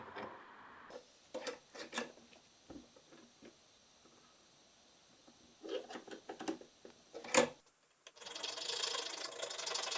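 A thread file rasps against metal threads while fitting tractor pie weights, a series of close, scraping strokes in short bursts with pauses, ending in a steadier, louder rough rubbing.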